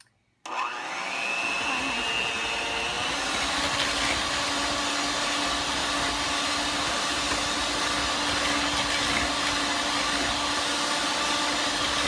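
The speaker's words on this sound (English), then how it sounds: "then we're gonna mix it for 2 minutes again on high speed" Electric mixer beating cake batter made with vegetable oil on high speed, starting abruptly and running as a loud, steady whirring drone close by, with no talking over it.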